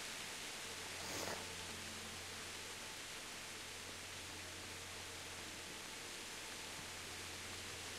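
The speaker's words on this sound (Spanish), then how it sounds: "ya está lloviendo otra vez" Steady rain falling in the medieval game Kingdom Come Deliverance, a soft, even wash of hiss that holds unchanged throughout, with a faint low hum underneath and a brief swell near the start.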